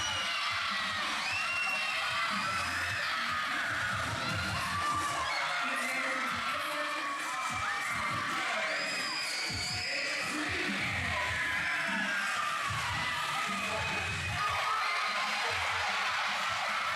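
Wrestling crowd at a New World Wrestling show cheering loudly for the wrestler Crazo, a continuous dense roar of shouts, whoops and screams that stays strong throughout.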